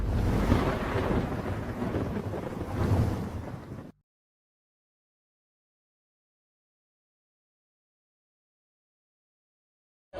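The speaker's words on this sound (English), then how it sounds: "A thunderstorm is a phenomenon that can cost lives" A thunderstorm with rumbling thunder and rain roars loudly and continuously for about four seconds, then cuts off abruptly into silence before a sudden burst at the very end.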